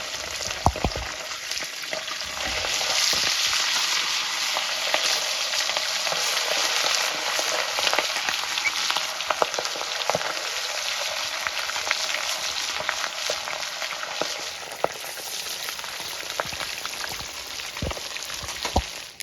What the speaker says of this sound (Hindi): अभी बाकी के जो पीसेस बचे हैं इनको भी हम अच्छे से फ्राई कर लेंगे इस तेल में।